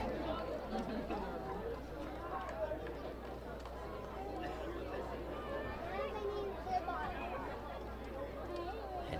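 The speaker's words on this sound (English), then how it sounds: "Active and big crowd on hand here in Pullman." Steady, busy crowd babble at a Washington State baseball game in Pullman on a sunny Sunday afternoon, a continuous murmur of many voices with no standout calls.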